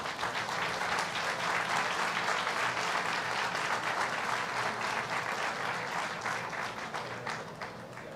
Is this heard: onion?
no